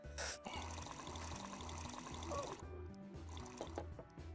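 Vodka pours in the Taphouse VR game, a steady liquid stream running for several seconds over a rhythmic pulsing game backdrop, with a brief splash at the start.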